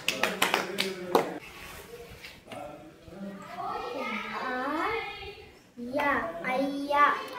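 Children in a primary classroom give a short burst of claps, then voices take over as children and an adult talk.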